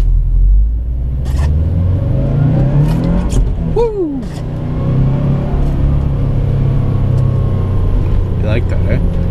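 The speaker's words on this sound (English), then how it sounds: "I love opening up my engine and keeping it revving high." A car engine revs high and loud in a sustained, rumbling roar that swells and holds, with one excited shout in the middle.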